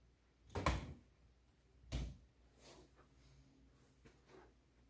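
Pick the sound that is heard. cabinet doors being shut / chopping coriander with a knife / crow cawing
cabinet doors being shut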